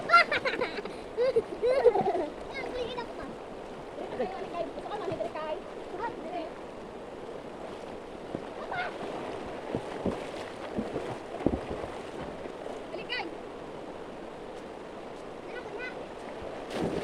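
A river current rushes around a bather in cold water, a steady broadband wash with gusts of wind noise, while voices talk over it.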